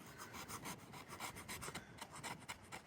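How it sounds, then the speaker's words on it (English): A knife blade scraping excess glue off a laminate surface, a steady close rasping stroke repeated rhythmically like sanding, continuous with no talk. "it's like sanding, but we're just taking all the extra glue off, so we're gluing to the laminate rather than to glue"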